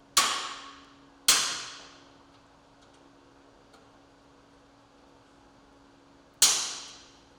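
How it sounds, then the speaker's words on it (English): A torque tool tightening channel nut fasteners during a roof rack install on a 2016+ Polaris General gives three sharp, ringing clicks, each decaying slowly, with long gaps between them. "torque the 8 channel nut fasteners with the included torque tool until it clicks"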